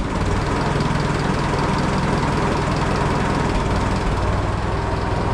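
An engine idles just after a cold start, a loud, steady, unbroken drone that holds even throughout with no voices.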